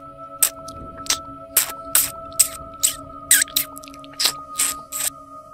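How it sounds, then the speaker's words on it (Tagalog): Horror sound effect of wet chewing and sucking on meat flesh, a series of about a dozen sharp squelching smacks in a slow uneven rhythm over a low eerie drone. "May narinig ako sa kabilang dingding na parang sinisip-sip yung mga laman ng karne."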